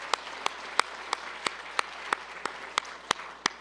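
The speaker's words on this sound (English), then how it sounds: "Let's have a round of applause" Faint, evenly spaced claps sound at the National Press Club's presidential inauguration event, roughly three per second in a steady rhythm, thin and sparse rather than a full crowd's roar.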